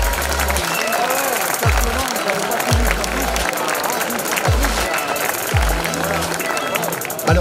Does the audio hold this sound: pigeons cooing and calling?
no